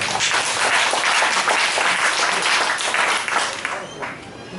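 Audience applause for a singer at a fan club launch ceremony, a dense wash of clapping that holds steady and loud before thinning near the end, with voices faintly mixed in.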